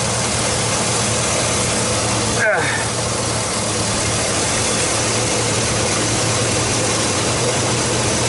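A Chevrolet Silverado engine runs with a misfire, giving a steady, loud mechanical drone and hum. One brief sharp knock sounds partway through.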